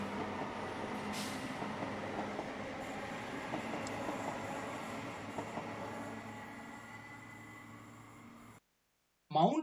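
Suburban train at Adambakkam station on the St Thomas Mount to Velachery line, a steady rolling rumble with faint squeals, fading out before a brief burst of sound at the end.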